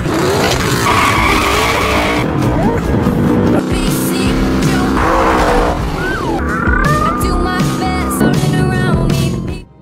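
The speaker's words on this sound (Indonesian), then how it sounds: "hewan sekecil ini mampu menyetir mobil" Tyres skid and squeal as a car drives hard in a film scene, loud and close, with sharp rising screeches and engine noise over several seconds before cutting off at the end.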